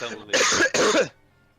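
A character in Ni no Kuni coughs twice, rough and throaty, closely recorded, then quickly fades to silence.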